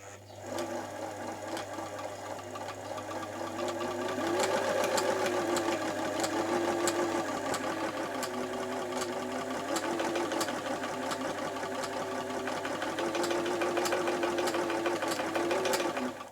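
A Singer 247 sewing machine runs steadily with its top lid removed, a continuous close mechanical whir with rapid needle ticking that swells slightly in speed partway through, with no talking.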